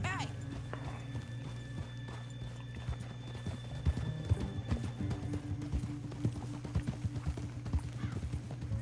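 Steady clip-clopping hooves of a horse walking in the video game Red Dead Redemption 2, with a brief whinny near the start, over a constant low musical drone and some talk.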